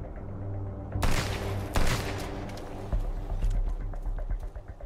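Gunfire in the survival video game Sunkenland: several sharp, loud shots ring out in an irregular burst over a steady low in-game background hum, followed by scattered smaller cracks and clatter.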